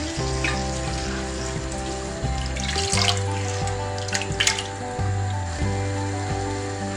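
Hot water is poured into a pot of Kerala-style tomato rasam, giving a running, splashing stream with sizzling underneath and light music in the background.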